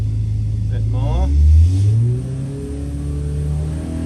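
A car engine revving on a dyno, the revs climbing and holding in a loud, close roar with a rising whine, then settling into a steady drone.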